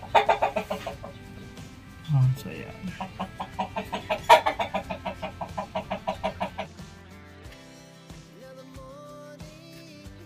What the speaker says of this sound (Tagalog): dalawa ang naglililim sa manok, mga manok dito sa kubo